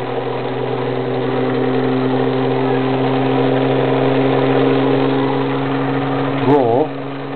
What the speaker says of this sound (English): Motor speed up.